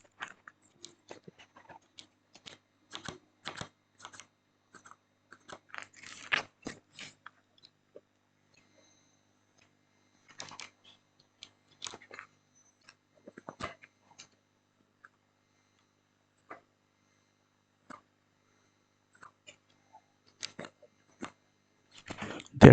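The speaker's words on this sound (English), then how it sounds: "I think I just touch the keyboard and they are working fine." Sparse typing on Outemu yellow silver linear keyboard switches, faint soft clacks in short irregular bursts separated by quiet pauses, close and with no talk.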